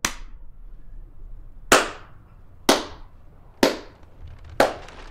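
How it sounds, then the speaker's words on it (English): One person claps slowly, five sharp, loud, isolated claps spaced about a second apart against a quiet room background. "This is sincere applause."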